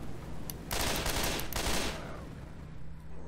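Sustained burst of gunfire in the video game Left 4 Dead 2, a dense rattling volley lasting about a second and a half after a single early shot, loud and close, then fading into noisy ambience.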